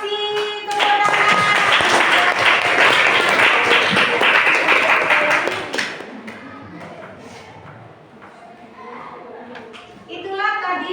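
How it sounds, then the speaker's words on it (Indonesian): Schoolchildren in a classroom clap loudly and quickly for a group presentation, a dense burst of close hand claps that cuts off after about six seconds, leaving quieter chatter before a brief second flurry of clapping near the end. "Tepuk tangan."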